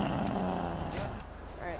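A dog growls from inside a parked car during a roadside stop, a low rumbling snarl that runs steadily for most of the moment and then fades slightly, with other noise underneath.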